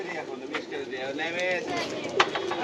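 Giribaz pigeons coo in soft, rolling calls close by at a pigeon farm, with a few sharper chirps and a steady outdoor murmur underneath.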